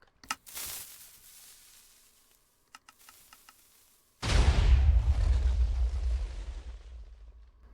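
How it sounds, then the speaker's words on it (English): TNT cannons fire in Minecraft: a few sharp clicks and pops, a quiet stretch, then one loud booming explosion that rumbles and slowly fades over several seconds. "this one is what I've decided is probably the most efficient and most powerful out of all of these TNT cannons"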